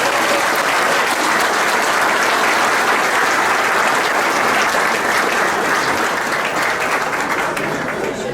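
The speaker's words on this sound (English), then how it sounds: "big round of applause for all of our" Sustained applause from a room full of guests at a softball hall of fame banquet, steady and dense clapping that continues at full strength throughout.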